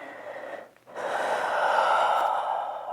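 Deep breathing during a vinyasa flow yoga class: a short breath, a brief pause, then one long, steady exhale through the nose or mouth, close and clear, with no talking.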